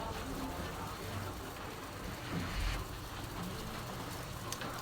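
Rain falls on a wet morning, a dense, steady hiss and patter that continues without pause at moderate level, with no voices over it.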